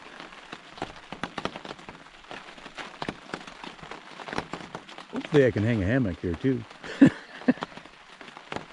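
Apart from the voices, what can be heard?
rain falling on a tarp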